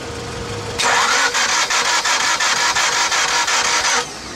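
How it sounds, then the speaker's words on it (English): A street car's engine cranks repeatedly without catching because of a missing spark. A loud, rhythmic churning of starter pulses runs for about three seconds after a quiet start, then cuts off abruptly. "Crank it again."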